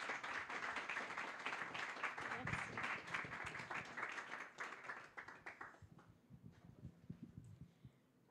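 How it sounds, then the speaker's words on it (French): An audience applauds a speaker being welcomed at a circular economy event, strong clapping that fades out after about five seconds into a few scattered claps and quiet stirring. "des applaudissements"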